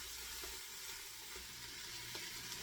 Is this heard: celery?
yes